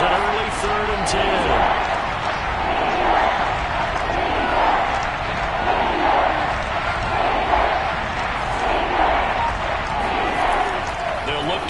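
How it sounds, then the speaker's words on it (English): Football stadium crowd noise during a third-and-long play in a Kansas City versus Seattle game, a steady loud roar of many voices that builds slightly, with a commentator talking over it. "Crowd getting in it a bit already."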